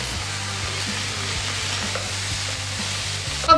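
Garlic and grated carrot sizzle with onion in a pan for a bacon and banana farofa, giving a steady close hiss with a soft, even rhythm of stirring strokes. A brief louder knock comes at the very end.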